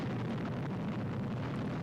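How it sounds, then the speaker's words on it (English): Explosion sound effect from a Fireball XL5 episode, a dense, sustained roaring rumble of noise lasting about two seconds, fairly faint. "And huge explosion somewhere."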